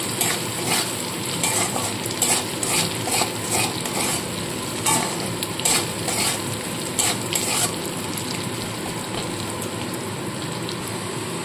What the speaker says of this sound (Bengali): তো আলুটা সামান্য ভেজে নেব